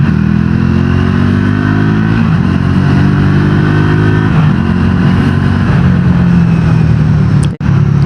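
A Triumph Tracker 400 motorcycle is ridden on the road, its engine a steady, close drone that rises and dips as the revs change, with wind rumble throughout and a brief dropout near the end.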